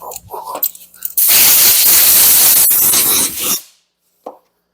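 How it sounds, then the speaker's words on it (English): A loud, close burst of compressed air blowing off Toyota Starlet engine valves, a steady hissing rush lasting a couple of seconds before cutting off, preceded by light handling noises. "I'm going to blow them off on our walk over there. And let me blow them off right here."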